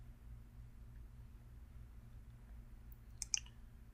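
A couple of quick mouse clicks sound close and crisp near the end, loading a program to a Siemens S7-1200 PLC, over a steady low hum with no talk.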